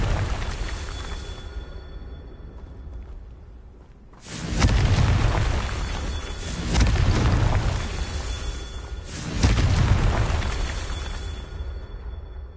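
Confringo spell explosions from a Harry Potter–style video game burst out as three loud, rumbling booms spaced a few seconds apart, each swelling and lingering over a quieter low background.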